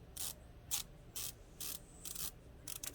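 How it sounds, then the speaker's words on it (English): A watch bezel turning in quick bursts of fine ratcheting clicks, about seven short clicking runs separated by brief pauses, close and crisp. "That noise you hear there is the clicking on the inside of the bezel."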